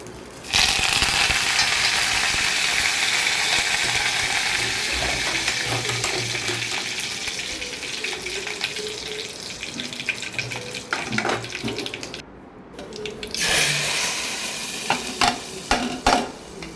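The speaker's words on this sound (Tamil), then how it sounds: "கருவேப்பிலையும் சோம்பை தாளித்து கொட்டிக்கலாம்." Curry leaves and fennel seeds tempered in hot oil for goat head curry, a loud, close sizzle with vigorous stirring that fades into scattered clinks and scrapes after a brief gap, no talking.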